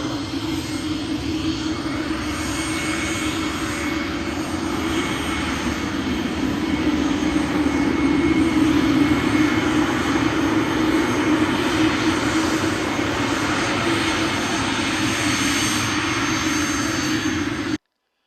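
Aircraft engines run on an airport ramp, a loud continuous roaring drone with a strong low rumble that holds steady for the whole stretch, without any talking.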